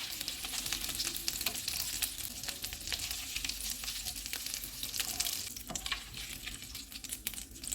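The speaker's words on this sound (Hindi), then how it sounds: "मीट बॉल्स फ्राई हो गए हैं, इनको निकाल लेते हैं।" Meatballs frying in hot oil in a pan, a continuous bright sizzle and crackle with occasional stirring and spatter, close and steady with no talk.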